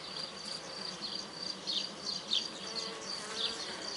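Bees in a queenless beehive give off a steady, close, soft buzzing drone, with individual bees flying past now and then.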